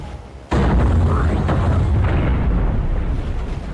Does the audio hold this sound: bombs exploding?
yes